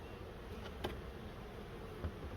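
Honey bees buzz steadily around an open hive, a soft continuous hum with a couple of individual bees passing close by for a moment.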